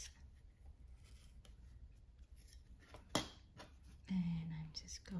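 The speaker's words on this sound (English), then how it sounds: "So obviously my circle is too big. So I am going to cut this." A circle is cut from a clay slab with scissors, giving soft close snips and a sharp click among quiet handling noises while a person whispers.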